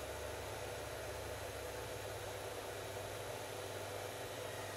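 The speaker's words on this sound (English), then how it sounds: "this is approximately the fastest speed for this motor right here" A small DC motor driven by an ATtiny2313 PWM controller whirs steadily at close to full speed, a constant, even, hissing hum with no change in pitch or level.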